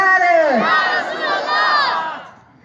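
A large crowd at a religious sermon shouts a slogan in unison, a loud, raw mass of voices that rises, swells and then fades away.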